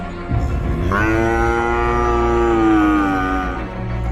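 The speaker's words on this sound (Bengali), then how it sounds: "বাঁধা গরুগুলো বাঘটাকে দেখে ভয়ে জোরে জোরে ডাকতে থাকে।" Tethered cows in a cartoon, frightened by a tiger, let out one long, loud, rising moo that holds for several seconds, close and clear with no talk over it.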